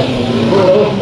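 Race cars roar around Bakersfield Speedway during a 50-lap enduro, a steady dense engine drone with a rising tonal whine from passing cars, loud and continuous.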